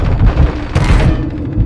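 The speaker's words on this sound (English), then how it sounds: "Our mortar strike is inbound." Mortar strike in the Warzone video game, heavy rumbling explosions with a sharp crack midway, dense and loud, then fading into a low roar.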